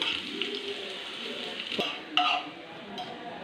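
Curry leaves, onion and chili fry in hot oil as a tempering for a raw mango curry in the Angamaly style. A steady close sizzle carries on under light stirring, with a few sharp metallic clinks of a utensil against the pan.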